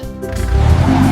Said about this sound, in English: Jeep.